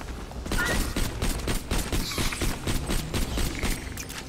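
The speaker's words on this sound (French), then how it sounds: "Je prends le fusil à pompe." Rapid shotgun blasts from the video game Borderlands: The Pre-Sequel, loud and close, firing in a fast irregular burst over a busy mix of in-game effects for about four seconds.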